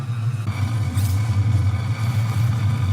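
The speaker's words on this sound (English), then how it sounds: "Those engines are loud." Loud spacecraft engines in the space strategy game Terra Invicta, a steady low droning rumble with a throbbing pulse that continues without break, heard alone without talk.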